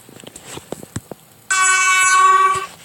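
Class 720 train in the Roblox Stepford County Railway game, a loud, steady, tonal horn-like blast of about a second and a half, preceded by faint scattered clicks.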